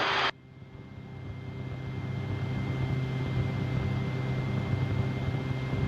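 A Rotorway kit helicopter flies on a calm day, its steady engine and rotor drone building gradually and holding loud and continuous, with no talk, as it climbs toward a straight-in autorotation over a field.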